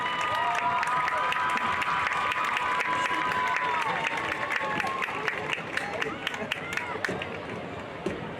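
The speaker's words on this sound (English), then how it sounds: "how about another round of applause for our 2021 Sterlington High School homecoming court" Crowd applauding the 2021 Sterlington High School homecoming court at a high school football game against Richwood, a steady broad wash of clapping and cheering that carries throughout, with sharp claps and a voice faintly audible within it.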